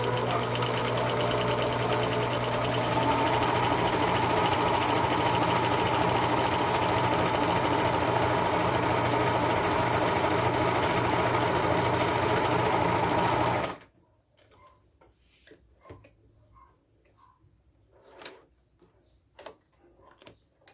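A Singer Facilita sewing machine stitches in one steady, loud, continuous run for about fourteen seconds, then stops abruptly, leaving only faint scattered clicks and handling noises.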